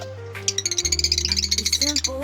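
A pet bird in its cage gives a quick burst of rapid, bright chirps lasting about a second and a half, close by, while a person speaks over it.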